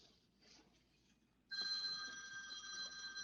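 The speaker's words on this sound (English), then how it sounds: "Oops, somebody's ringing." A phone starts ringing partway through, a steady electronic trill that comes in suddenly and holds at moderate loudness after a quieter stretch of faint background sound.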